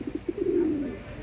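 A fancy pigeon coos nearby: a few soft stuttering notes lead into one longer rolling coo. The call is brief and fairly quiet, with no voices over it.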